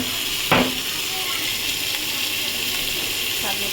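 Chopped green chillies drop into hot oil in a pan for pomfret curry, bursting into a loud, sharp crackle, then settling into a steady close sizzle with a light stir late on.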